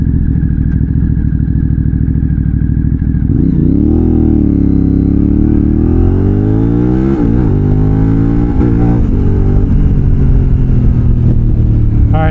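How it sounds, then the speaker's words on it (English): A Moto Morini X-Cape 1200 adventure motorcycle engine lugs low in fourth gear, then pulls and revs upward when the throttle opens, loud and close throughout. "Turn the throttle and it just pulls out of it."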